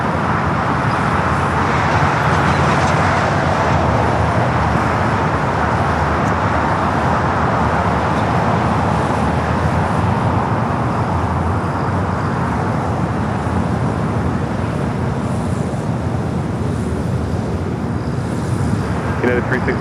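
Airliners at Los Angeles LAX airport, a loud continuous jet engine roar with broadband rumble and wind buffeting that holds steady throughout, no talk heard.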